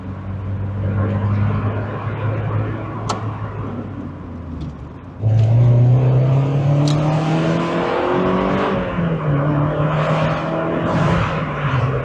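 A car travels at about 40 miles per hour, its steady engine drone and road rumble audible throughout, with the engine note rising in pitch as it accelerates partway through.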